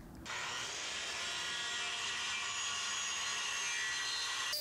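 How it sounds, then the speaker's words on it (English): A circular saw rips through a wood board for closet shelving, guided along a clamped straight edge; the steady, loud whine runs continuously for several seconds after a brief start, with no talking. "you can also just use a circular saw as you see me using right here"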